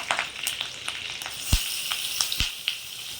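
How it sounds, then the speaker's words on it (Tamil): Marinated chicken drops into hot oil with fried curry leaves, giving a steady close frying sizzle broken by a few sharp crackles and pops. "கருவேப்பிலை நல்லா பொரிஞ்சிருக்கு இப்போ நம்ம மேரினேட் பண்ணி வச்சுருக்க சிக்கன் இதில் போட்டுருவோம்"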